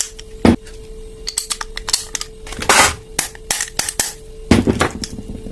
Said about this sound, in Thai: อันนี้เราก็ต้องตอกยันเข้าไปให้สุดนะ